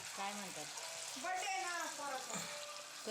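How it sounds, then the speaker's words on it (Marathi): Vadi pieces dropped into hot oil give a steady, moderate sizzle and crackle, with someone speaking over the frying throughout. "तेल तापलं आहे आपलं चला आता वड्या सोडून देऊया मस्तपैकी"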